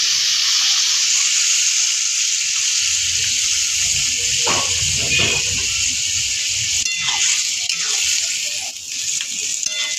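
Papaya sukto simmering in a covered pan after water goes in, a steady bright hiss and sizzle running throughout with a burst of low bubbling in the middle.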